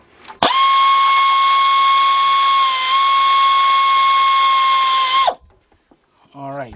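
Air ratchet with a 12mm deep 3/8-inch drive socket removing bolts on a 2001 Chevy Tracker 2.5, a loud steady high-pitched pneumatic whine for about five seconds before cutting off.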